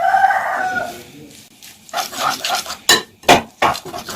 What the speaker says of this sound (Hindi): अब इसमें हम डालेंगे पालक और थोड़ा सा सब्ज धनिया। ये डालने के बाद अब इसे हम अच्छी तरह से मिक्स करेंगे।